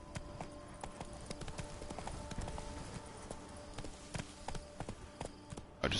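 Roach, Geralt's horse in The Witcher 3, clip-clops steadily along with a brisk, regular hoofbeat rhythm, moderately close and fairly quiet over a soft game ambience.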